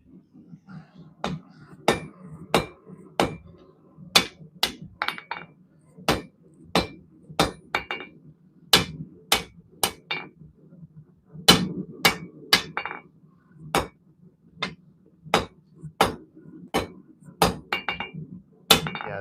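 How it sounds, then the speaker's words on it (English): A big hammer strikes metal in a run of about twenty loud, ringing blows at a fairly steady pace of roughly one per second, each clang decaying quickly, with a faint voice in the background at times. "I want to use my big hammer"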